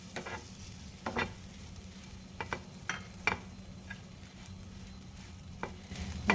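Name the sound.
bread pieces frying in butter in a pan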